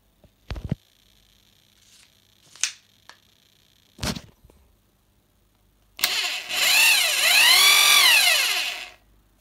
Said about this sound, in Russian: Сейчас я включу режим сверла.